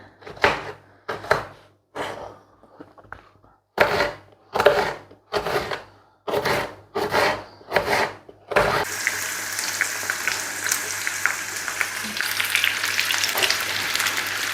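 Peppers being fried in a pan, first heard as a series of sharp separate bursts, then a continuous loud close sizzle that takes over once everything goes in and keeps crackling steadily with no talk.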